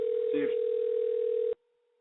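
A telephone call rings out on the line while waiting for someone to answer: one continuous, steady electronic tone that cuts off abruptly, with a brief voice fragment near the start.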